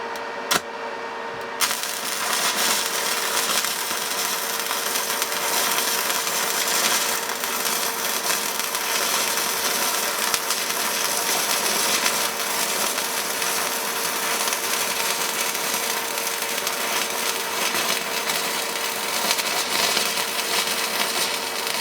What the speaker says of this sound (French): je vais vous faire une petite soudure